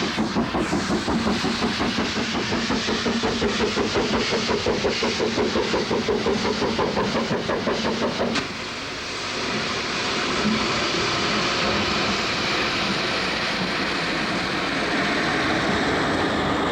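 The Cheltenham Spa Express steam train runs past with a steady, heavy rolling roar and a rapid rhythmic beat, loud and close at first, then settling into a smoother, slightly quieter rumble.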